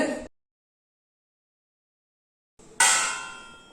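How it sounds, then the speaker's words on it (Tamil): A single bright, ringing clang as hardened sugar syrup is tapped against a plate, following a brief sound and a stretch of silence. "டொங்குன்னு சத்தம் வருது பாருங்க இதுதான் டொங்கு பாகு"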